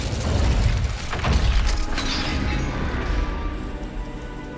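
A heavy gate in Hogwarts Legacy slams shut with a loud mechanical crash and grinding ratchet-like clatter, then fades into a lower rumbling din.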